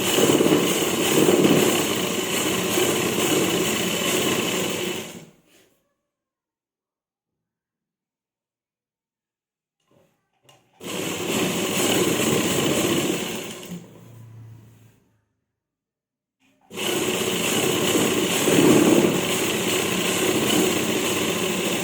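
A sewing machine stitching salwar fabric, running in three steady, loud whirring stretches with long silent pauses between them, close and alone.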